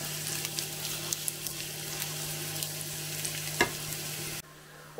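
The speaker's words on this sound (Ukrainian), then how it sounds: "Підсмажуємо до золотистого кольору цибулю." Onion frying in heated oil until golden, a close, dense and continuous sizzle with small crackles that holds steady for about four seconds and then cuts off abruptly into near quiet.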